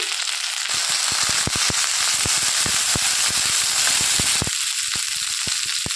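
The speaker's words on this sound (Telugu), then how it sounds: "బెండకాయ ముక్కలు కోసుకుని బెండకాయ ముక్కలు వేసుకోవాలండి" Okra pieces frying in a pan with onions and green chillies give a steady, loud sizzle, broken by many sharp crackles and pops at irregular moments, close up with no talking.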